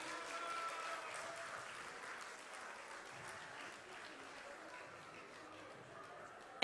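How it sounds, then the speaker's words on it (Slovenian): Audience at a school festival finale giving applause, a broad continuous clatter of many hands heard from a distance, fairly faint and slowly tapering off. "En aplavz še prosim."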